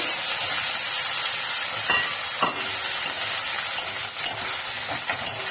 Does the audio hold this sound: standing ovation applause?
no